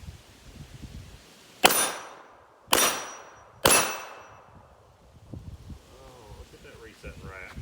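Three sharp shots from a 9mm Rock Island double stack pistol with an upgraded trigger, fired outdoors about a second apart, each loud crack ringing briefly with a metallic clang, followed by quieter rustling and faint talk.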